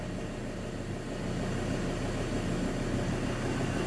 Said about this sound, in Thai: ฟังเสียงเครื่องยนต์กันก่อน